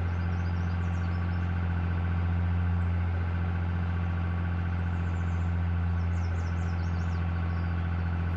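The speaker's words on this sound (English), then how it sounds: "this is a pretty fun tractor to drive" A tractor engine runs steadily at close range, a deep even drone with no talking over it, on a farm where corn is being planted.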